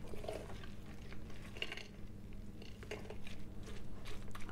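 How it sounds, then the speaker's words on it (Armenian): A spoon stirs a pineapple and walnut dessert mixture in a bowl, giving a soft continuous scraping and sticky churning, close and quiet with faint clinks against the dish. "խառնում ենք"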